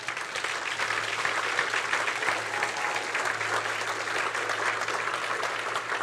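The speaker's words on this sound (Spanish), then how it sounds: "Denle un aplauso al Señor" Church congregation applauding steadily through the whole span, a dense, even wash of many hands clapping with no break, with a faint low hum running beneath it.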